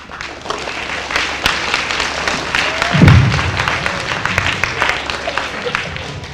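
A school audience applauds 4th grade students and an honor choir at a Veterans Day assembly, a sustained wash of many hands clapping in a gym-like room, with voices murmuring underneath and a brief louder swell midway.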